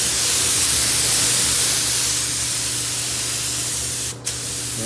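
Spray gun painting a pearl white Volvo front bumper at about 15 psi: a loud, steady hiss of atomizing paint fills the clip, broken briefly by a short gap in the spray near the end.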